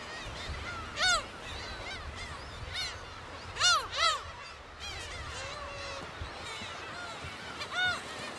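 Gull chicks on a rocky island nest calling out for their mother, a series of loud, harsh rising cries in irregular bursts over a constant outdoor wind and sea wash.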